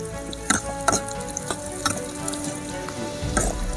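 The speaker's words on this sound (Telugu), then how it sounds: "వీటిని కొంచెంసేపు ఇలా వేయించుకుందాం" Onions fry in oil for a village-style wild mushroom dish, a loud close sizzle with several sharp stirring knocks against the pan.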